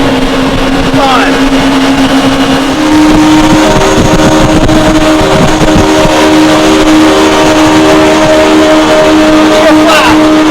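A 2008 Yamaha SX230 High Output, a 23-foot boat, runs at about 54 mph. Its engine drones loud and close, climbing in pitch as it speeds up, over rushing wind and water.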